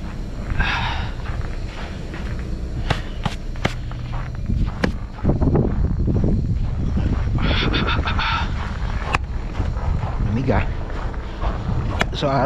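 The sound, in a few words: strong wind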